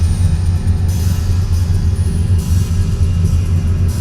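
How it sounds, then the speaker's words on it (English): Long reverb tails from a feedforward reverb piling up into a low, thunder-like rumble, a continuous dull roar that swells and eases slightly, steady and fairly loud with no voices. "Because otherwise we have these long reverb tails,"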